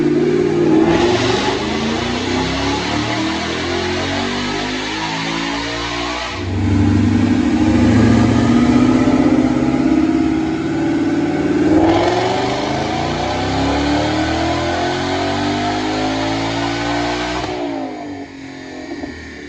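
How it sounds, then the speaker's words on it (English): A 2020 Ford Mustang GT fitted with a Roush Phase 2 supercharger kit and Borla mufflers makes a loud dyno pull. Its engine note climbs steadily in pitch through several long sweeps, dropping back between gears. "So check out this dyno pull."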